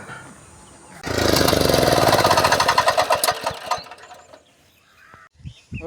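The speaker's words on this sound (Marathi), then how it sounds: "आता छोटा ट्रॅक्टर चालून बघूया चला" A small farm tractor engine starts up loud and close, settling into a steady mechanical chugging with a rapid knocking rhythm for a few seconds before dying down to quieter background noise.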